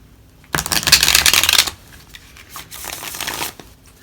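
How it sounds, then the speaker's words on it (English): Tarot cards being shuffled up close in two quick bursts of riffling and flicking, with a brief quiet pause between them. "I did pre-shuffle, so I'm not going to go nuts with the shuffling"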